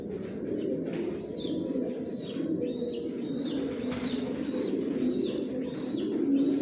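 Pigeons coo repeatedly in a pigeon loft, soft rolling calls recurring every second or so over a steady low murmur of other birds, with occasional chirps and faint wing flutters.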